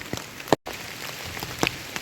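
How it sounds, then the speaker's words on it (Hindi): Heavy rain falls through a forest in North Bengal near Srikhola, a dense continuous patter on leaves and surfaces with a few sharper drop hits and a brief dropout. "जंगल के बीचों बीच बारिश हो रहा है।"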